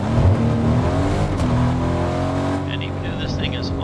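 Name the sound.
car engine revving in Fortnite video game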